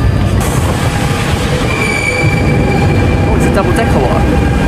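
An RER A double-decker commuter train heading to Disneyland Paris rolls along steadily with dense rail rumble, wheel clatter and a faint high squeal. A voice talks over it briefly.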